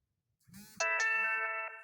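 A phone notification rings out with a bright, sustained chiming tone built from repeated pulses, loud and close, following a brief low murmur at the start.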